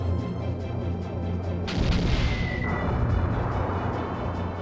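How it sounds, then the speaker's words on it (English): A heavy cannon blast from the Skies of Arcadia Legends video game booms loudly after a quieter stretch, followed by a long rumbling roar with a rising whistle. "how about Drachma, you use the moon cannon that we just picked up"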